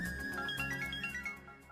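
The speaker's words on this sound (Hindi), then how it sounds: "ओह, आपकी माँ का फोन है।" A phone rings with an incoming call, a melodic ringtone of steady tonal notes repeating over a low background hum, heard alone without voices.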